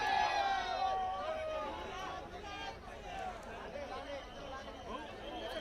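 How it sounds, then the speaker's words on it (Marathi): A large crowd gathered at Beed railway station for the departure of the first train there: steady, dense murmur of many voices and movement, fairly close and continuous, with scattered louder calls rising out of the hubbub. "ही रेल्वे पाहण्यासाठी बीडकरांनी मोठी गर्दी केलेली आहे"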